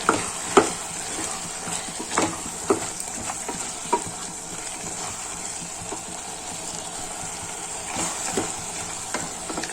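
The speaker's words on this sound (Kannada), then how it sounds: "ಇದನ್ನು ಅಷ್ಟೇ ನೀಟಾಗಿ ಚೆನ್ನಾಗಿ ಮಿಕ್ಸ್ ಮಾಡಿ" Soaked soya chunks are stirred into a spiced foxtail millet and fenugreek dish in a pan, with repeated spoon scrapes and clacks over a steady, close sizzle.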